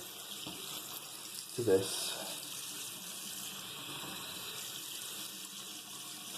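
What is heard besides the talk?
cold water running from a tap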